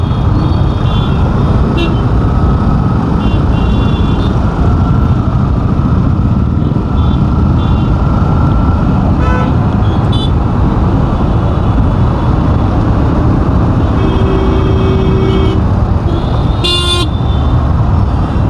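Dense road traffic in light rain rumbles loudly and continuously, with engines, tyre hiss, brief horn toots and a beeping vehicle alarm near the end.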